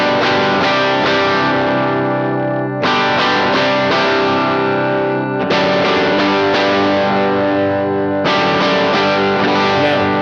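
Distorted electric guitar through an amp sim, a Swingley boost driving an Edwards model into saturation: loud, thick chords struck and left ringing in four long sustained phrases, with no talking.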